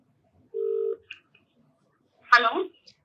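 A telephone placing a call gives one steady dialing tone lasting about half a second, then a short blip, and a brief voice follows after a pause in otherwise quiet surroundings.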